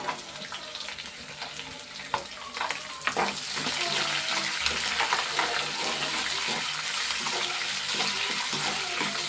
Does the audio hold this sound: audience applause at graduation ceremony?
no